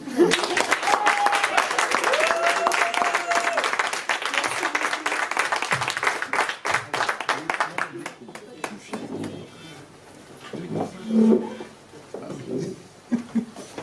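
A concert crowd at MJC Picaud in Cannes applauds to welcome a young performer, steady dense clapping for about eight seconds that fades into scattered claps, murmurs and a brief voice.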